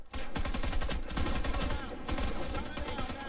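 Rapid, dense automatic gunfire from a co-op match of the video game Warface rattles continuously and loudly for a few seconds.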